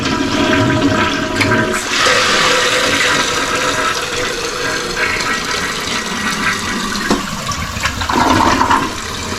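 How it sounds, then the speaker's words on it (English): Toilet flushing just after a new float was fitted, a loud rush of swirling water running steadily for about nine seconds before settling into the refill gurgle, with no talking. "So then we just test a little flush."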